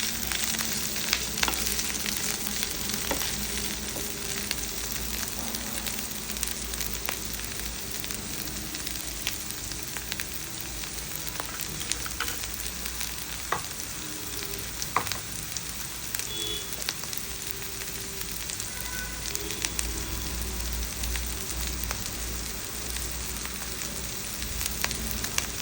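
Bitter gourd slices and onions frying in a pan, a steady dense sizzle running the whole time with occasional scrapes and stirring clicks, no voices.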